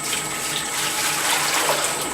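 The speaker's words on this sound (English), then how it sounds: "You get a bucket full of clean water and you can start pouring into the hopper." Clean water poured from a bucket into the hopper of a Presidential soft-serve machine, a steady close splashing rush of liquid that runs evenly the whole time with no talking.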